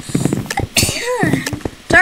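A person sneezes once amid chatter during a Bedwars game round, a sharp burst following brief talk, with game sounds and speech around it.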